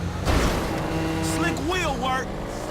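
An Audi RS6 engine in GTA 5 revs hard, its whine sweeping upward in pitch with each surge of acceleration, loud and close.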